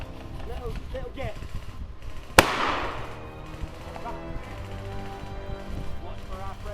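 A single sharp airsoft mortar launch goes off mid-skirmish in a wooded field, one abrupt loud crack with a short rushing decay, while players talk and move around it before and after.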